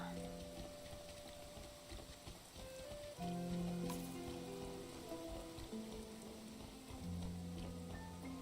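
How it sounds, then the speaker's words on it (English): Rain falling in the video game Infinity Nikki, a soft steady patter and hiss running under layered game music tones, fairly quiet throughout. "It's very rainy."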